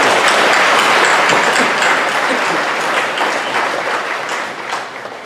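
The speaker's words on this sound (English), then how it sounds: "let's give her a round of applause as well" A graduation convocation audience applauds steadily in a large hall, a dense, loud wash of many hands clapping at once that gradually tapers off toward the end.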